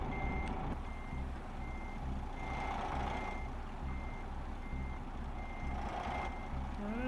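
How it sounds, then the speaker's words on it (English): Proximity alarm beeping in a truck in Euro Truck Simulator 2, evenly spaced repeating beeps over a low rumbling engine, steady and clear throughout. "That sound you hear is the proximity alarm"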